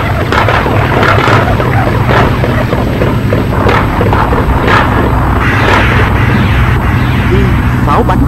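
Artillery shells slam into a town during a large night assault on Buon Ma Thuot, with dense, continuous booms and rumbling blasts layered over a loud, unbroken wall of battle noise.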